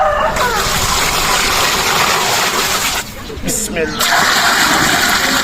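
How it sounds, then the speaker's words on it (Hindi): Water gushing and splashing into a large pot holding 20 kg of channa chawal rice, about 35 litres poured in a strong continuous stream that briefly drops off, with someone speaking over it. "अब हम इसमें पानी डालेंगे चावलों के हिसाब से।"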